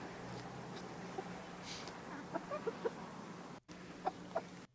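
Several chickens cluck softly in short scattered bursts over a low background hum, fairly faint and close by.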